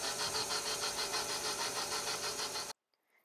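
A motor whirs steadily with a pulsing rhythm for a few seconds, then cuts off abruptly, leaving near silence.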